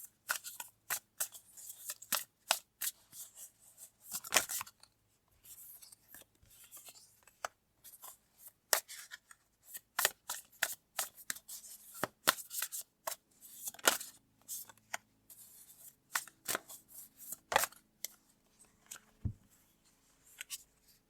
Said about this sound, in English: So I'm going to pull some more cards to go with that.